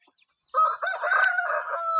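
A rooster in a backyard chicken coop with hens and chicks crows once, loud and close, a long rising-then-held call following a faint brief cluck, with no talking.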